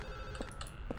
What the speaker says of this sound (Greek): αυτό το τηλέφωνο θα μας πρίξει τώρα